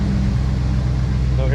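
A 1985 Ford Mustang LX 5.0 Fox body barn find idles steadily up close in cold weather, its low engine drone and exhaust rumble continuous and loud throughout.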